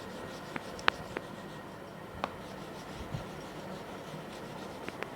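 A pen or marker writes an equation on a board during an economics lecture, faint scratching strokes with a few sharp taps spread across a quiet room, no voices.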